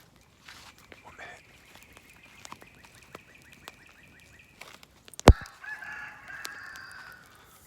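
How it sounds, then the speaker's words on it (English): A rooster lets out one long, drawn-out crow at moderate distance in a quiet outdoor setting, followed moments later by a sharp, loud nearby knock and some faint rustling. "Damn roosters never quit."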